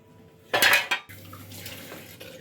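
Fresh mint leaves rinsed in a pot of water, a short burst of splashing and clinking of dish and metal, then quieter sloshing and handling sounds close by.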